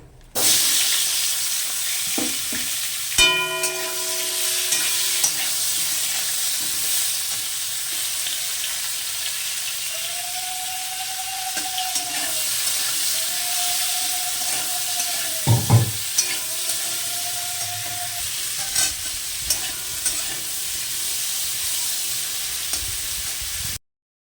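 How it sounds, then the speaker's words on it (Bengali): Bitter gourd frying in oil for shukto, a steady close hiss of sizzling with scattered stirring scrapes and a few clinks, plus a faint tonal beeping midway, continuing without speech. "এবার আমি ভেজে নেব উচ্ছে"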